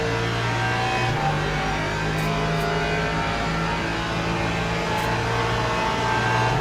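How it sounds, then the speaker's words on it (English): A Porsche race car engine drones loudly and steadily in Le Mans Ultimate at Paul Ricard, sustaining a constant high-revving tone with slight pitch shifts throughout, with no talk. "Here comes the Porsche."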